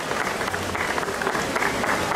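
Audience applause at a Miss Vesuvio beauty pageant stage event on Via Italia in Battipaglia, a steady dense patter of clapping from a nearby crowd lasting a couple of seconds with no talk.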